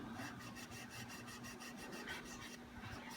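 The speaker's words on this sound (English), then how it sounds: "we're almost done buffing down all the frets, and then we'll clean off all this steel wool." Steel wool buffs the frets of a flea-market Yamaha F325 acoustic guitar, a steady close rhythmic rasping scrub with repeated strokes, no talking.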